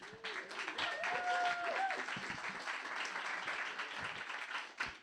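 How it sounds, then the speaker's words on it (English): An audience claps for a first-time presenter taking the stage at a WordHack reading event, steady applause filling the room throughout with a few voices faintly underneath. "Thank you for the claps."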